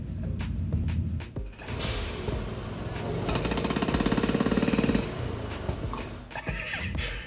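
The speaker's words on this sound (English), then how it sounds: "we've got some construction outside the building today" Jackhammer at a construction site just outside a building, a loud, continuous rattling burst with clattering machinery around it, heard from indoors with no talk.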